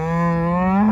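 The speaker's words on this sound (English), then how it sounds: "we got lots of fat cows" Fat cattle in a pen give one loud, close, sustained moo that lasts the whole second.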